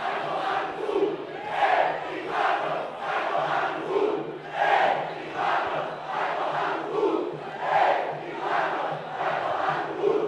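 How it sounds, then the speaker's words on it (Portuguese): Football supporters at an amateur city cup match in Sorocaba chant in a rhythmic, repeating pattern, the massed voices rising and falling in regular waves from a distance. "um momento aí de exaltação da torcida do Vila Helena para a torcida do Enquadros"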